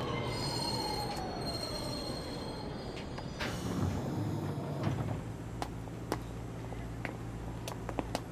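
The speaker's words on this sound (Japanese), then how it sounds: "まもなく1番線に電車が参ります。" An electric commuter train rolls into a Japanese station platform (track 1), wheels squealing loudly at first, then braking with a low rumble and settling into clicks and soft clunks as it stops.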